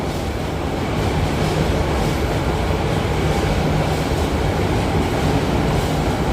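A Romance Car express train bound for Hakone rushes past on a Tokyo line, a loud, steady roar of wheels and rails that fills the scene evenly from start to finish with no voices.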